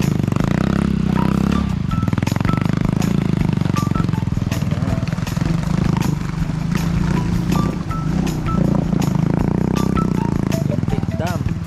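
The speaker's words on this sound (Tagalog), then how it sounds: "Yung motor ni Bob dito ah." A motorcycle engine runs near the Intake Dam in remote mountain country, a loud, steady low drone with a rough throb that holds for the whole stretch while people talk over it.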